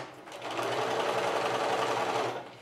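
A sewing machine runs a steady quarter-inch seam on a quilt, one continuous close, even whir from start to end with no talking.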